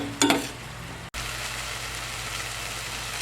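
Chicken frying in a pan gives a steady, close crackling sizzle with a brief louder spatter near the start. A short dropout interrupts it before the frying continues evenly.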